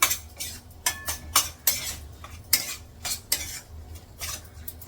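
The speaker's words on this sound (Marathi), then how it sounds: "हे मिक्स करून घेते आणि काढून घेते" A spoon scrapes and clinks against a bowl while grated paneer is stirred and mixed, a close, rhythmic run of metallic taps and scrapes repeating every half second or so, with no talk.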